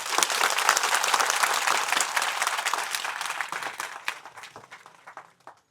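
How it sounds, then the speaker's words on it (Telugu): Applause from an audience of Shiva devotees at a village religious gathering: dense, steady clapping that thins out and fades toward the end, with scattered last claps trailing off. "గట్టిగా చప్పట్లు కొట్టాలి"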